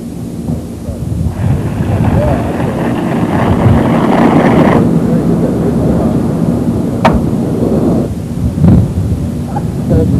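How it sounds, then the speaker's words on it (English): A stored pressure portable fire extinguisher discharges its chemical in a loud rushing burst lasting a few seconds, set against a rumbling background with brief sharp knocks afterward. "simply pull the pin and squeeze the shutoff handle, and the chemical will discharge"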